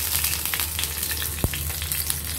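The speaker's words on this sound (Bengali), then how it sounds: "এই যে টমেটো, আদা রসুন, পেঁয়াজ আর লঙ্কাগুলো, এইগুলো একটু ভালো করে সাঁতলিয়ে" Tomato, ginger, garlic, onion and chilies sauté in a frying pan with a steady, close sizzle and one brief utensil clink midway; no voices.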